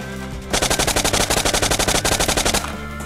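A player's weapon fires in a first-person shooter on the Blockpost map, a loud rapid burst of evenly spaced automatic shots lasting about two seconds, with quieter game ambience before and after.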